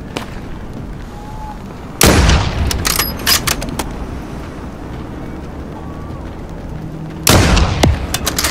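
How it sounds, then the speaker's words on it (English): Enemy gunfire in the Call of Duty: Modern Warfare 3 campaign: two loud bursts of shots, one at about two seconds and another near seven, each with rapid follow-up cracks over a low rumbling battlefield background. "There's enemy fire!"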